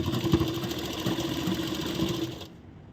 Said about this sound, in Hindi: पहले सीधे साइड हम सिलाई लगाएंगे, उसके बाद फिर हम इसको उल्टे साइड सिलाई लगाएंगे।